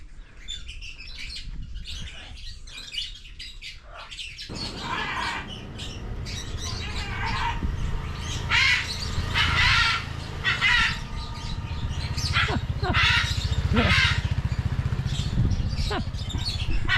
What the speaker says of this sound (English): I see a big macaw up there. I'm sure he's the one that's screeching all day long.